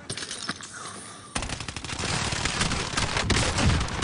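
Rapid bursts of automatic gunfire and overlapping shots from the Warzone video game, loud and dense, starting after a short quieter stretch with brief pops and then continuing as sustained fusillade to the end.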